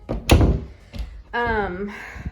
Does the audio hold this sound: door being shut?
yes